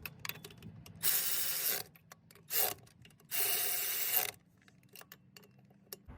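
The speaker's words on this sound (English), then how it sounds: "We tighten it because right now it's still loose, and so we tighten it with a 12mm socket." A 12mm socket ratchet tightens nuts on a 1991-94 Toyota Tercel engine during idle air control valve work, heard as three bursts of rapid, close ratcheting clicks separated by quieter pauses with small metallic handling noises.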